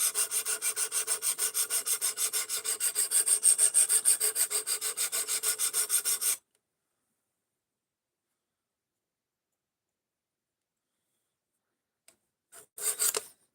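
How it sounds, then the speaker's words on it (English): A knife blade is stroked rhythmically against a sharpening stone, rapid even rasping strokes for about six seconds, then silence broken by a few brief scrapes at the end. "we're already sharpening"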